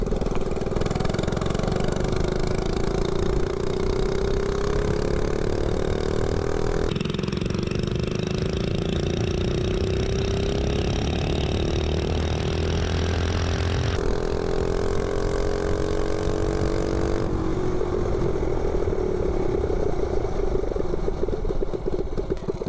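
A 98cc Rascal mini bike with a slide carb and header pipe runs close by, its small engine droning steadily with gentle rises and falls in pitch, no talking over it.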